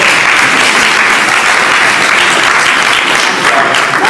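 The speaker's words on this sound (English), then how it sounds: "Can you give them a round of applause?" Loud, dense audience applause for the board of education at a school district listening tour event. The clapping is sustained, close and full, with no talk over it.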